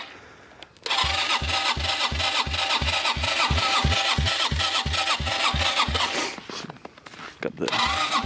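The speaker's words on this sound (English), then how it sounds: "We are trying cold start again, do remember." A HammerHead 250ss engine cranked for a cold start after sitting for months, with rapid rhythmic starter chugging that runs for several seconds without catching, close and loud, then a brief second cranking attempt, with people talking.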